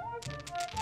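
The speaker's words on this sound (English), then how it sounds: "Move left stick or right stick to shake the dice" Dice rattle in a plastic shaker in the Boggle video game on PS4, a quick clattering burst of small hard clicks that starts partway through and keeps jostling briefly over a faint tonal background.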